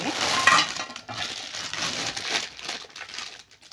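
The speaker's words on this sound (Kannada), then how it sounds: "cover sound" Plastic packaging cover crinkling and rustling around a new, small but heavy steel frying pan (kadai) from a cookware set, a continuous close, busy crackle lasting several seconds.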